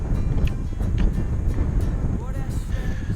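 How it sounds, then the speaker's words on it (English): Strong wind roars and buffets the microphone on a mountain hike in the Lake District fells, a loud continuous rumble throughout. "Don't know if you can hear me over the wind"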